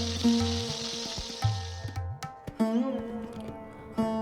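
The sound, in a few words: parshe fish frying in oil in a wok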